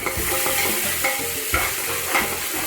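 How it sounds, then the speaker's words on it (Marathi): Onion sizzles in a hot pan for green pea rice, with a constant frying hiss and several rhythmic scraping stirs spaced about half a second apart. "आता चांगला परतून घेऊया"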